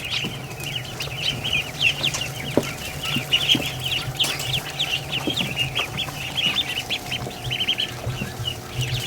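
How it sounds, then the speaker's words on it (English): Ducklings peep in a steady stream of high chirps, many small calls overlapping close by with a faint hum behind them. "Oh, little ducks."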